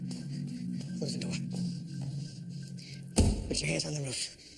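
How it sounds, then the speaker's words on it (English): A car door slams shut with a single loud, sharp thud partway through, following a stretch of quiet low vehicle hum, with a faint voice heard briefly afterward. "Close the door."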